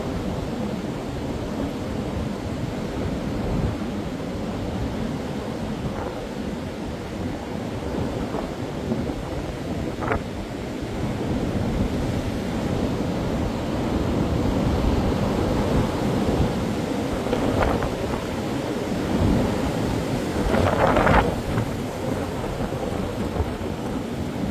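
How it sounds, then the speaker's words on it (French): Strong storm wind roars and gusts across the Vercors mountain front during Storm Floriane, a steady loud rushing with swelling gusts and a few brief sharper bursts, no voices. "J'entends du gros vent qui arrive."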